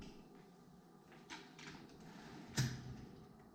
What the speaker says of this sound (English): Let's see what's in the drawer